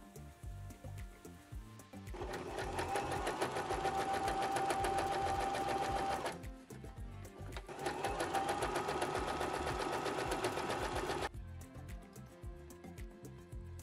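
A sewing machine stitches along the fabric edges of a cargo skirt, running steadily for about four seconds, pausing briefly, then running again for a similar stretch, close and clear with no talking.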